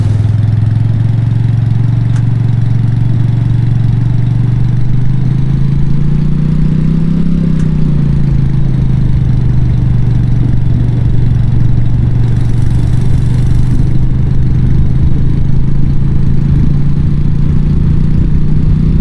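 A van engine in the driving game A Long Road runs steadily at a low, even drone, swelling briefly as if revving midway before settling back into a constant hum, with no talking.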